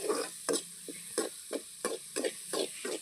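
Dried fish thokku sautéing in oil is stirred in a pan, with soft sizzling and a regular series of scraping strokes about twice a second, close but fairly quiet.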